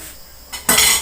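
A spoon clinks and scrapes against a pot and bowl while coconut chocolate is moved to fill molds, a brief clatter swelling into a louder, bright rattle.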